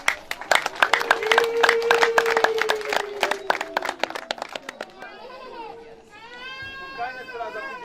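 Wedding reception crowd breaking into rapid clapping and high trilling ululation, loud and close, with voices and cheers mixing in before the applause thins out near the end.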